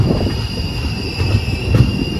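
A passenger train on the Guwahati to Sealdah route rumbles along the rails nearby, with a low steady roar, a high whine and a couple of louder clunks from the wheels.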